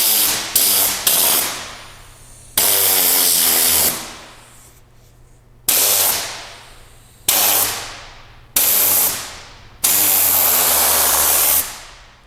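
Tornador 007 mini air-powered cleaning tool blasting compressed air in loud bursts, several short pulses then longer sustained blasts with a rattling, whirring hiss, each cut off abruptly, close up and alone.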